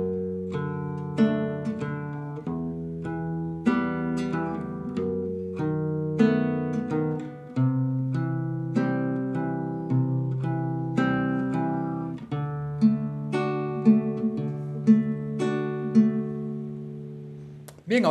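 An acoustic-sounding guitar fingerpicks a steady chord progression from a song, with bass notes and plucked upper strings in an even repeating pattern, close and fairly quiet with no voice over it.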